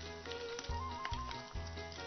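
Shrimp toast fries quickly in hot oil over fairly high heat, giving a quiet, steady sizzle with a few soft thumps and clatters from the pan.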